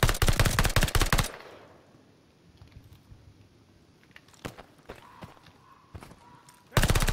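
Automatic bursts from a PPSh submachine gun with no attachments in Call of Duty: Vanguard, a loud rapid stream of shots at the start and again at the end, with a quieter stretch of scattered shots and noise between.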